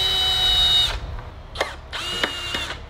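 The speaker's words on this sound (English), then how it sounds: "Here, we're gonna drill this in like such" A cordless power drill whines in short bursts while driving screws into the base of a backyard swingset during assembly. The first run is long, followed by two brief pulses, heard close.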